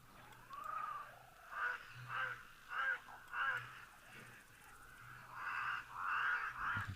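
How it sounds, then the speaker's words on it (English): Cape crows give a series of harsh, rhythmic caws from a short distance at a waterhole in the wild, repeated calls about every half second to a second over a low background hum. "enjoying really a rather imposing sound of those Cape crows"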